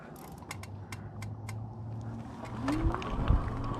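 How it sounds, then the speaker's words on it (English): A quiet e-bike hub motor hums steadily while rolling on Veetire ZigZag street tires, with little road noise and a soft whine rising near the end, alongside faint ticking and a couple of low thumps. "All you hear is the motor. No tire noise at all."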